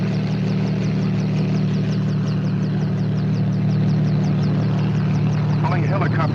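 A helicopter engine and rotor drone steadily and loudly throughout, a constant low hum with faint chatter from inside the cabin near the end.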